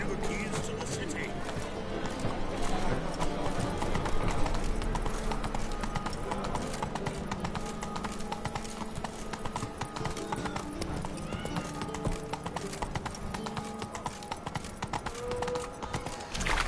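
Galloping horse hooves clip-clop steadily in The Witcher 3 video game, a continuous close rhythm with occasional whinnies over game music, while someone talks throughout.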